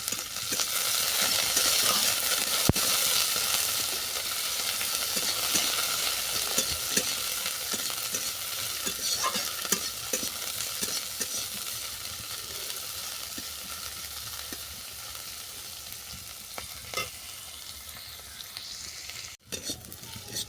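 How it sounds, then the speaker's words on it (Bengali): Onion, garlic and slit green chillies sizzle steadily in a pan, a continuous close frying hiss with occasional stirring scrapes and clicks, no voices. "পেঁয়াজ রসুন কাঁচা লঙ্কা ভালো করে ভেজে নেওয়ার পর"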